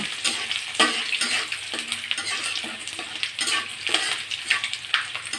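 Panch phoron spices with cardamom sizzle in hot oil for a soybean curry as a spoon stirs them, producing a bright crackling hiss with repeated scraping strokes against the pan, near and unvoiced.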